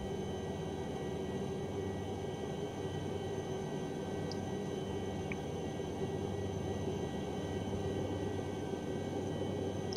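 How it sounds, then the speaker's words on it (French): An SA 315 Lama helicopter taxis in the X-Plane 11 flight simulator, giving a steady, even engine drone and hum with a faint rotor rumble that holds unchanged throughout. "Vous voyez, c'est un hélicoptère"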